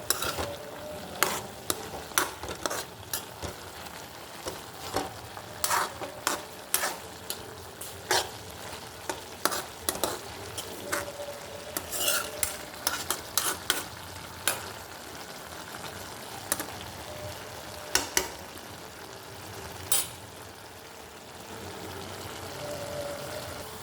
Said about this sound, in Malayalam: ഒന്ന് ഇളക്കി കൊടുത്തോട്ടെ.